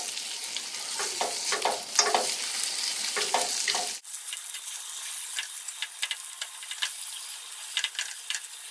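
Meatballs fry in oil in a pan, giving a continuous close sizzle with scattered pops and crackles; the pan is shaken partway through, and the sizzle then turns thinner and crisper.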